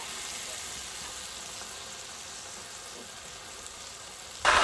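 Steaks frying in a hot pan give a loud, continuous sizzle held close throughout, ending in a sudden louder burst of spitting as more meat hits the pan.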